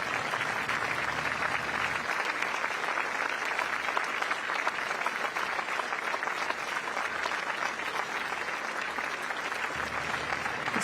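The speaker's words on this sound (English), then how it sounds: "A round of applause now as incoming Prime Minister Lawrence Wong arrives on the Istana" Crowd on the Istana grounds in Singapore applauds as the incoming prime minister arrives, a steady, even wash of clapping heard from a distance with a low rumble underneath.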